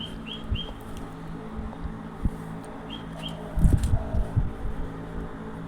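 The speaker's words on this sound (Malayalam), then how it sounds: "ഇവിടെ നിൽക്കുമ്പോൾ കിളി ഇങ്ങനെ വന്ന് ഒച്ച ഉണ്ടാക്കുന്നുണ്ട് ഗൈസ്." A bird nearby gives a few quick, high chirps in two short bursts over a low background hum, followed by some soft thuds and rustling.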